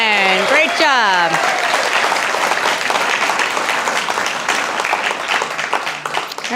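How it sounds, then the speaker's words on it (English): Sustained applause from an audience at a guide dog graduation ceremony for class CA1039, loud and dense, following a brief vocal sound at the start and continuing steadily. "Let's give one big round of applause for the class of 1039"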